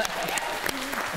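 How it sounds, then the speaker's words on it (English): Audience applause at a talent competition, a short burst of crowd clapping with voices and cheers mixed in. "That deserves a round of applause, guys."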